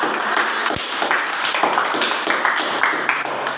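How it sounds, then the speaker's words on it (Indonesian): Applause from a classroom audience, a dense patter of many hands clapping at steady loudness throughout, close and continuous with no talk over it. "Ya, kita kasih tepuk tangan."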